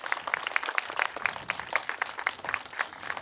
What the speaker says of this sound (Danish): det kræver også en ekstra klap